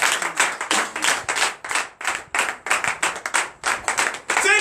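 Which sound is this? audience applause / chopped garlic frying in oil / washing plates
audience applause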